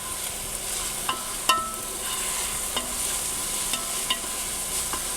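Onions frying in a pot hiss steadily while a spoon stirs them, with a few soft clicks and scrapes of the utensil against the pot over the constant sizzle.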